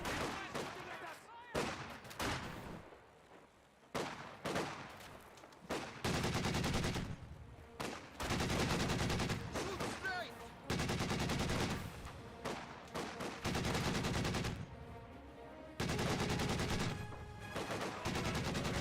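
Rapid bursts of .50 caliber machine gun fire in the World War II strategy game Company of Heroes 2, loud sustained volleys in repeated long stretches mixed with other battlefield gunfire and short pauses between.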